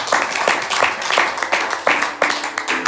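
Rhythmic group clapping in steady unison beats, a church congregation keeping time together during a French-language Sunday service, fairly loud and close.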